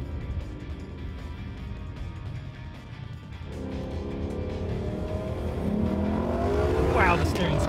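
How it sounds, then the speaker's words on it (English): An Aston Martin DB11 accelerating hard through a pylon course, its engine note climbing steadily in pitch and growing louder as the car gains speed, with a voice speaking briefly. "It accelerates so fast that entry speed into the first pylon is extremely fast."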